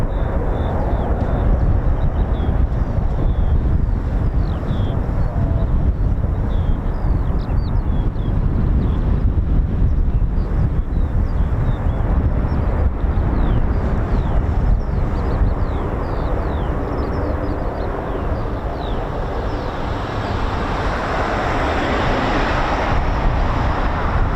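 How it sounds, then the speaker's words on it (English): A KC-135 Stratotanker comes in to land at RAF Mildenhall, a steady broad jet roar rising and falling over the full stretch, mixed with gusty wind buffeting the microphone outdoors. "KC-135, just going to land."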